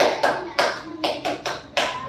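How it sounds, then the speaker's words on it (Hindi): Schoolchildren perform the sainik taali, a soldier-style clap, as a handful of sharp, evenly spaced claps in unison, loud and close. "वो है सैनिक ताली"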